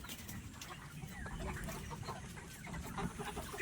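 Black Australorp chickens, about 75 days old, cluck and murmur together in a close, continuous flock chatter against a steady background hum.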